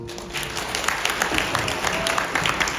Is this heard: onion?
no